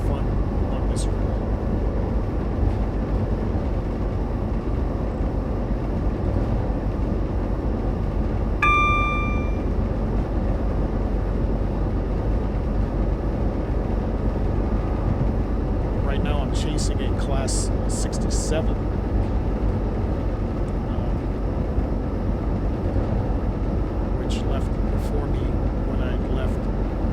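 A Class 166 First ScotRail train in Train Simulator Classic, running from Edinburgh Waverley, gives a steady droning rumble with continuous track noise and a few brief higher tones, while someone talks over it throughout.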